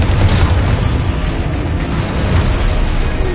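Spell blast from Confringo in the Hogwarts Legacy video game, a dense continuous roar of booming, crackling energy with low rumbling bursts sustained throughout, loud and close with no voices.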